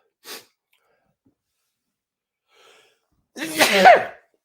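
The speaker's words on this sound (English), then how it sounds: "the irritation in my nose is just making me sneeze" A single loud, close sneeze from a person with an irritated nose, preceded by a faint brief breath or sniff and a long quiet pause.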